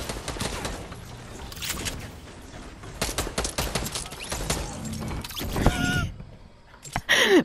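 Rapid bursts of automatic gunfire in a multiplayer shooter video game, dense and loud, crackling through most of the stretch with brief gaps and mechanical clicks near the end.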